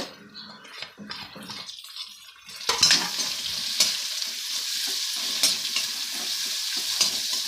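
Onions fry in a pan for drumstick-leaf rice. A quieter stretch of clinks and stirring comes first, then a loud, close sizzle takes over, with frequent scraping stirs and no voices.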